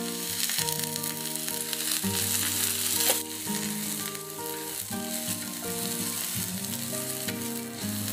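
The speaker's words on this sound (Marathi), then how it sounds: "आपण हा कांदा अगदी थोडं तेल टाकून भाजून घेणार आहोत।" Finely chopped large onion sizzles steadily in a little oil on a hot griddle, a continuous frying hiss running beneath prominent background music throughout.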